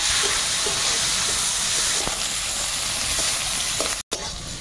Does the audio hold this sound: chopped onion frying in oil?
yes